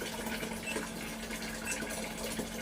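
A continuous hissing rush of water from a coin-operated water vending machine fills a bucket steadily, with a faint mechanical hum underneath.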